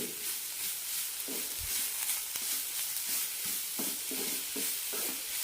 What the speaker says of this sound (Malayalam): മുള്ളങ്കി നന്നായി വഴറ്റിയതിന് ശേഷം ഉരുളക്കിഴങ്ങ് ഇട്ടാൽ മതി